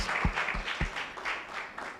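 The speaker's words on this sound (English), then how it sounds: "Please, a round of applause." An audience at a youth civic-engagement panel on the democratic process claps in a steady, fairly soft round of applause, with a few sharper individual claps standing out near the start.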